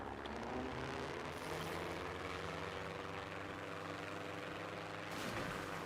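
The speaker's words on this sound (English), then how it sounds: "So let's switch to the plane, fly to the volcano, see what we can see." A propeller airplane drones steadily in a video game, a loud continuous engine hum with a rising whine near the end, alone with no talk.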